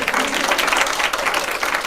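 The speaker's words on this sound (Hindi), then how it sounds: "तालियां दे सकते हैं" Audience applause at a women's empowerment event, a steady wash of many hands clapping throughout, with no break.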